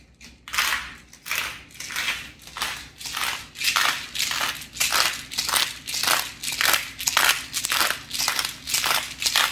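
A pepper grinder cranks over a slow cooker of navy beans, giving a steady run of about sixteen sharp, gritty crunching bursts in an even rhythm, close and clear with no talk.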